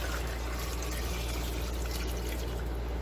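Water pours in a steady, close, continuous rush over salted potatoes in a pressure cooker, with no talking.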